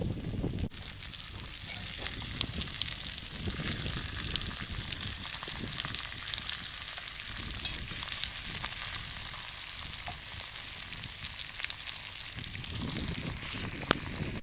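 Meat sears in a frying pan with a steady, dense sizzle and crackle that holds evenly throughout, close and moderately loud with no talking.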